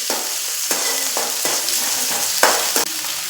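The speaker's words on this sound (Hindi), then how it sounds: "तो डाल देती हूँ यहाँ हरी मिर्ची और प्याज" Green chillies and chopped onion sizzle in hot oil in a pan for poha, a steady close hiss broken by several sharp scrapes and clatters of stirring, with no talking.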